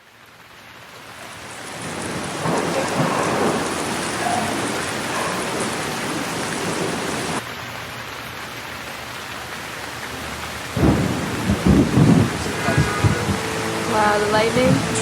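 Steady heavy rain roars loudly throughout a thunderstorm, with a sharp shift midway and a burst of louder crackling and rumbling toward the end; tonal voice-like traces appear faintly near the close.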